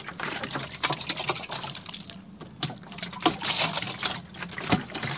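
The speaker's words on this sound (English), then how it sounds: "Then you take the water and wet this down pretty good, like this." Water poured from a hose or container to wet down the road rock base of a natural stone patio, a steady close splashing trickle running continuously with irregular spatters, no talk.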